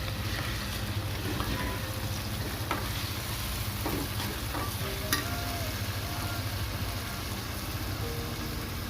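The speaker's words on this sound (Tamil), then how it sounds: "இப்போ நம்ம தக்காளி சேர்த்துக்கலாம்." Tomatoes tossed into onions frying golden in a pan for vegetable idiyappam, giving a steady loud sizzle throughout with intermittent scraping and stirring clatter close by.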